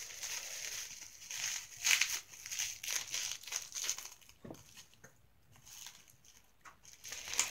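Crinkly wrapping being pulled off an item from a spiritual-themed subscription crate, with bursts of crumpling and tearing rustle that come and go, fairly close and moderately quiet.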